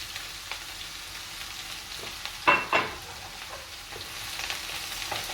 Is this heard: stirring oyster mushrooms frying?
yes